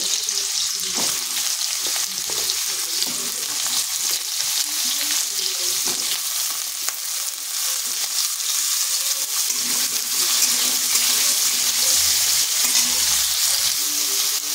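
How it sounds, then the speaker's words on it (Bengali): Potatoes and papaya fry in a pan with a loud, continuous, crackling sizzle that holds steady throughout, close up and without talk. "এরপর আলু আর পেঁপেটা ভেজে নিচ্ছি।"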